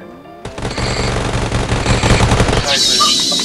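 Bursts of AK rifle fire in the mobile battle-royale game Knives Out, a loud rapid volley lasting about two seconds, followed by game sound effects, with voices chatting over it.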